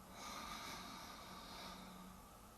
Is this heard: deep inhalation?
yes